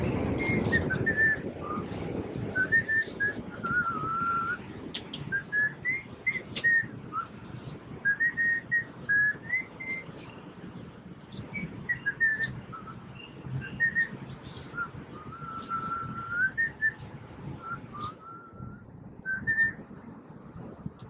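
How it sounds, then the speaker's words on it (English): A man whistles a meandering tune in short melodic phrases while pedaling a Swagtron EB-5 folding electric bike up a steep New York street, with faint road and wind noise beneath. "I can whistle and pedal, as you can tell."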